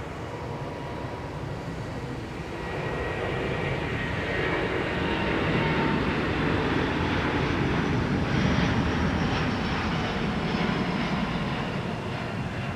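An airliner at Minneapolis–St. Paul Airport gives a steady, loud broadband jet roar that holds throughout, swelling slightly midway as it passes, with no voices.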